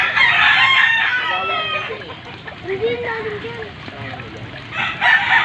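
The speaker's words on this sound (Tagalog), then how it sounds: "rescue mo na yung manok ko rin." Rooster crows and hens cluck at close range during a flood rescue, mixed with people talking and some splashing water.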